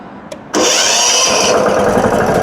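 A Kentavr 10 hp diesel walk-behind tractor engine catches after a short crank, then settles into a loud, steady close-up clatter.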